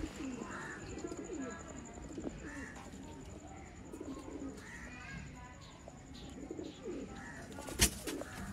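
A red-eyed breeder pigeon coos repeatedly in soft, low, rolling phrases against a quiet outdoor background, with a sharp click near the end.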